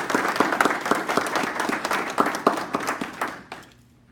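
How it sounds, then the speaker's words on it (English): Warm, dense applause from a graduation ceremony audience at an occupational therapy school, steady and full, then tapering off abruptly near the end. "Please give all of our students a well-earned round of applause."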